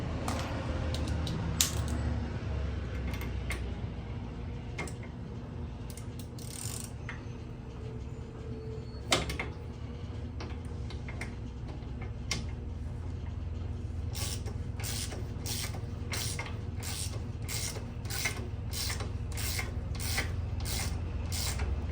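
Metallic clinks and ratcheting clicks of a socket wrench and T50 Torx driver working bolts loose on a Fox RSD mono shock, faint and irregular, with sharp taps and a steady clicking run near the end.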